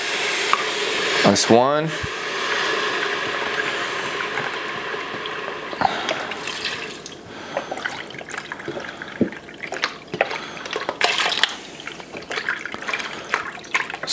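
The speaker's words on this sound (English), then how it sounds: "And this is gonna kind of deglaze all that caramelization from the onions." Vegetable stock is poured from a carton into an Instant Pot over caramelized onions, a steady trickling splash running under a brief spoken remark and light kitchen clatter.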